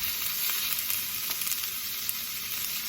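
Sliced peppers for a stir fry sizzle steadily in a hot pan, a constant close crackle with no voices.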